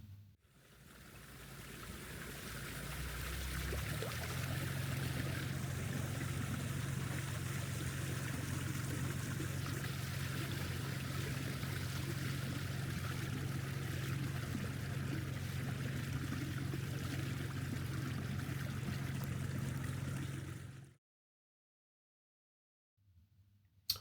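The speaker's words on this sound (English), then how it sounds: "As we approached St Martin's, the boatman eased off the power and we began to glide towards" A small passenger boat glides toward Lower Town Quay on St Martin's in the Isles of Scilly, its engine throttled back to a steady low hum over a constant rush of water and wash, then cutting to near silence.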